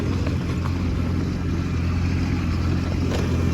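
Kubota B2601 compact tractor back blading snow mixed with gravel, a constant close engine drone with faint scraping texture, steady throughout and with no speech.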